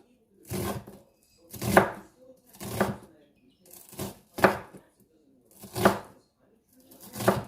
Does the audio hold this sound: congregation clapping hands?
no